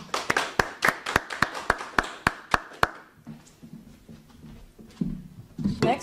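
Applause at a school quarterly awards ceremony for sixth-grade recipients: a quick series of crisp, evenly spaced claps that stops after about three seconds, then quiet room murmur and some talking.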